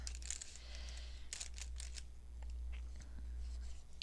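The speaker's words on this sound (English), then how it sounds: "I'm going to cut some of that off." Scissors snip through lace for a junk journal, giving several quiet, crisp cuts in short bursts over a low background hum, close and faint.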